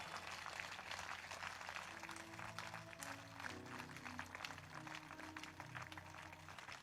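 A congregation at a church prayer service applauds in thanks to God, steady dense clapping from many hands at a modest distance, with faint music or voices beneath.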